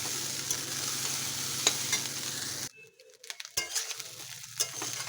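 Rice being stirred in a frying pan, a steady close sizzle with scraping stirs, broken by a short quieter pause before the frying resumes with scattered stirring clatter.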